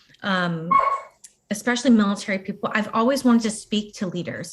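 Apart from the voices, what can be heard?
dog barking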